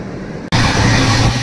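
A Vistadome glass-coach train on the Vizag to Araku Valley line at Elkota railway station: after a brief quiet moment, a loud, steady rolling rumble and hiss of the carriage fills the rest, with no voices.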